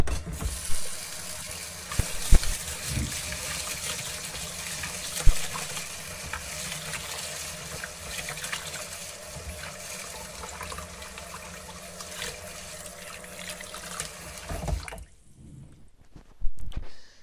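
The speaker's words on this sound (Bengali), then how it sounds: "সবজি টবজি ধুয়ে তারপরে হচ্ছে আমি মোটামুটি দেড় দেড় পটের মতো মানে এক পট দিয়ে আরেক পটের অর্ধেক হচ্ছে চাল ধুয়ে নিয়েছি" Tap water runs steadily into a sink while vegetables and rice are washed, a continuous splashing stream with occasional clunks that stops a couple of seconds before the end.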